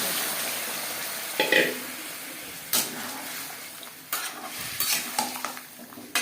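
Cooked mutton stirred into fried potatoes in a pan, loud scraping stirs and clatters over a continuous sizzle, close and busy.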